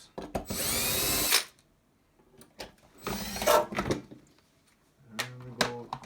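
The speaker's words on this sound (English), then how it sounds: "It's the metal from the drill actually hit the metal box" Power drill boring into a metal box, three separate bursts of high whining and grinding with a metallic scrape, separated by quiet pauses, close and fairly loud.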